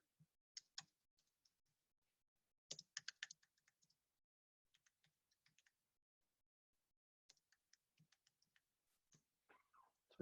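Keystrokes on a computer keyboard while a message is typed, heard as short scattered clicks in small bursts with long pauses between them. The sound is faint and close, with no talking.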